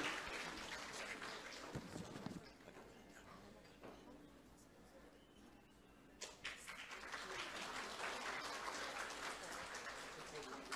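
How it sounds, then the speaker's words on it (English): Applause from a Lantern Festival gala audience, a dense wash of clapping that dips briefly midway then swells again, sustained for several seconds. "Let's give a big round of applause to Edward Chai."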